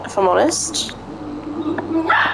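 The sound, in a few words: dogs barking in the background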